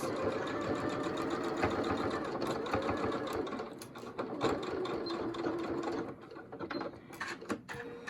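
A sewing machine runs steadily, basting double fold bias tape onto a health care worker's fabric mask; the close, continuous mechanical stitching whir has a few brief pauses and shifts in speed near the end.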